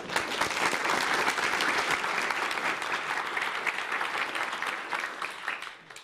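An audience at an academic seminar applauds to welcome the speaker, a dense, even clapping that holds steady for several seconds and then tapers off near the end.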